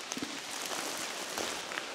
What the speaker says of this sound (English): Always like being in the woods in the rain.